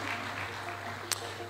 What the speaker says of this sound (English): let me ask you to join me to applaud the ministry and the agencies for the work done so far